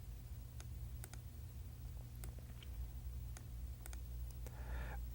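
Computer mouse clicks while picking an Excel chart style, a handful of sharp, separate taps spread across a quiet, steady room hum, with a soft rustle near the end.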